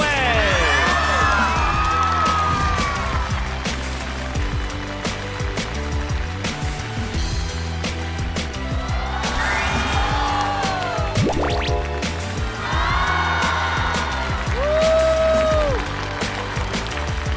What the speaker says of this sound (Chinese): 掌声欢迎张嘉佳、彭昱畅、周也，